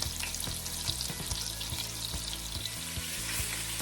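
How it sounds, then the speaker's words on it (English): Rabbit meat sizzles steadily in a hot pan, a continuous crackling hiss with occasional pops and scrapes, close up and without any voices. "you want a nice little sizzle"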